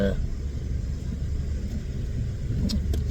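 Road traffic rolls past in a soft, continuous rumble of car engines and tires near a beach, with brief clicks near the end and faint background movement.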